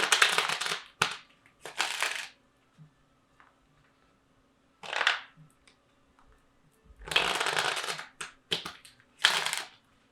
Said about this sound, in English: let me go ahead and do 4 shuffles